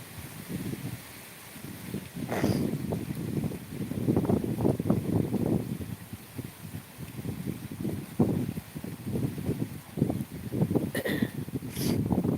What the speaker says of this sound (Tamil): சரியான காற்று அடிக்குது